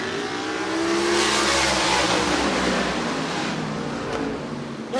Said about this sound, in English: let's see if we can get louder than the cars when they're taking off